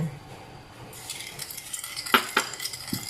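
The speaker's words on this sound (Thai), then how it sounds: "คนให้น้ำตาลละลายนะคะ" A utensil stirs sugar into cold water in a bowl, giving soft swishing and a couple of sharp clinks against the sides, close and fairly loud with no talking.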